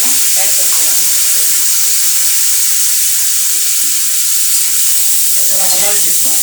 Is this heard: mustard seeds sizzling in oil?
yes